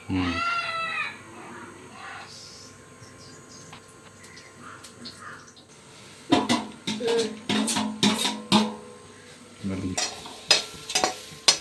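Coconut being roasted and stirred in ghee in a pan, a soft sizzle with scraping stir strokes running throughout, joined by a burst of louder clatter and scraping near the end, with brief voices in the background.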